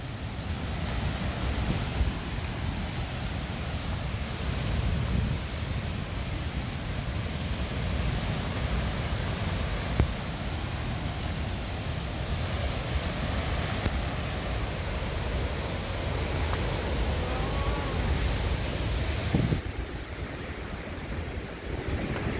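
Perumthenaruvi waterfall, water pouring in a broad sheet over a wide rock face, a steady, loud, dense rushing roar that holds constant throughout with no voices.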